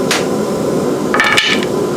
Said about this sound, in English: You may need a pry bar on it.